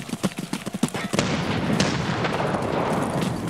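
A string of sharp blasts and booms in Escape from Tarkov Arena, several quick impacts at the start giving way to a loud rolling explosion rumble that holds steady to the end.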